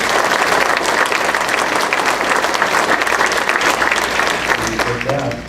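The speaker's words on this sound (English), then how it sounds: "all these host families deserve a special round of applause" Warm, dense audience applause at a Rotary Club meeting, honoring host families for youth exchange students, sustained and fairly loud for several seconds before easing slightly at the end.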